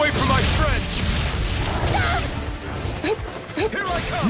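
An explosion spell in the action role-playing game Tales of Arise goes off as a dense, continuous crashing blast with bursts of impact, loud and close, mixed with characters shouting battle lines.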